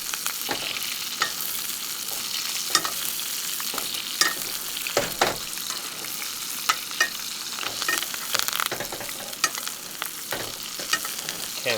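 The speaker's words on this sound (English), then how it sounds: "Should've got a bigger spoon to baste this with." Meat sears in a pan with garlic cloves, rosemary and thyme while hot fat is spooned over it, giving a continuous close sizzle broken by sharp spattering pops and scrapes.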